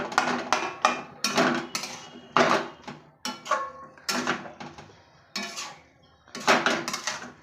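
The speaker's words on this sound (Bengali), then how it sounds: "দিয়ে আবার একটু ভালো করে ম্যাশ করে নেবো, যাতে এই কাঁচা লঙ্কার দানাগুলো বেরিয়ে যায়" Green chillies being mashed into cabbage in a pan, giving repeated clanking scrapes of a metal spoon or spatula against the pan in uneven bursts, close and fairly loud, with no talking.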